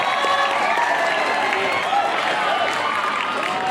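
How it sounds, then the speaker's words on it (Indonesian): Applause from a school student council candidate debate audience, a dense continuous wash of clapping and crowd noise, moderately loud and sustained throughout. "Tepuk tangan untuk kita semua ya."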